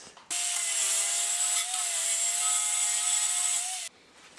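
Steady abrasive scraping as surface rust is removed from a Caterham Super Seven front suspension part, a continuous harsh grinding rasp lasting about three and a half seconds, close and loud, then stopping abruptly.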